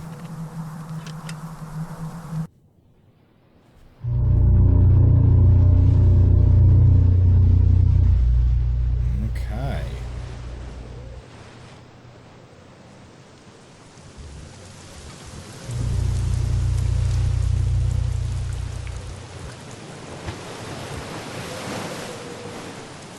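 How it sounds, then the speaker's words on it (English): Wind roars in the Syberia 2 game, a deep, rumbling gust that swells loudly, dies down to a softer hiss, then surges again, with no talk. "I don't see anything else to indicate where the wind is coming from"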